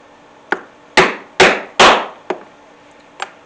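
A hammer strikes a rivet setter to set a rivet on a saw blade storage pouch: six sharp, close knocks, a light tap, then three heavy blows in quick succession, then two lighter taps.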